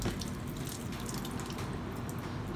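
Water runs from a tap for rinsing brake parts from a Honda Click 150i scooter, a steady splashing flow with drips, close and fairly loud, alone without talk.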